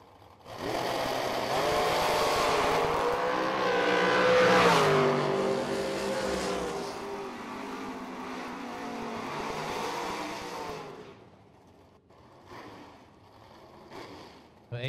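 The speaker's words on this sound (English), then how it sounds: "Pair of door cars coming in the water box" A pair of GM door cars, a Camaro and a Firebird, roar through the water box at a bracket drag racing strip, a loud sustained engine blast that rises, then fades away over several seconds, with no talk.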